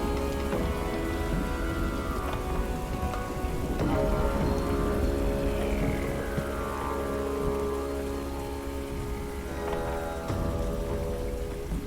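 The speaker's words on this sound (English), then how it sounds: "I literally just have a YouTube video open that says thunder sounds." Steady thunderstorm rain recording plays continuously, a dense even wash of rainfall with a low rumble beneath, constant and moderately loud throughout.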